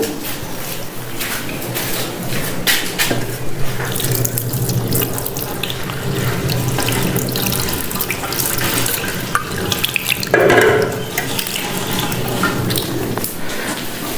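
Tap water runs steadily into a sink as hands are washed beneath it, a continuous splashing stream, close and fairly loud with small shifts in the flow and no speech.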